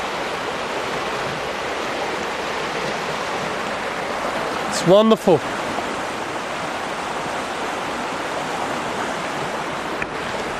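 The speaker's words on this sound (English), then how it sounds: "The beautiful river Krems." The river Krems flows as a steady broadband rush of water running through the whole stretch, with a brief spoken remark about midway.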